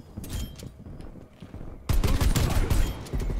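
An M1911 pistol fires in the video game Black Ops Cold War, with scattered shots at first and then a loud, dense run of rapid gunfire. Faint game sounds sit underneath.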